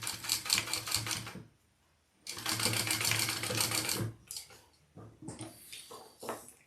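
Sewing machine stitching a basting line along the edge of a bag lining piece, in two close bursts of rapid mechanical chatter separated by a pause, then shorter stop-start runs.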